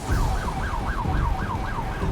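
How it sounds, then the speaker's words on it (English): A wailing emergency siren sweeps up and down rapidly in a steady repeating cycle, loud and close, with traffic rumble underneath, during a wildfire in Canada. "You hear the emergency sirens going"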